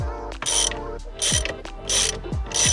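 Ratchet clicking in bursts as a bolt on a V6 Mustang steering wheel is loosened with an extension, four quick ratcheting strokes separated by short pauses, close and clear with no talking.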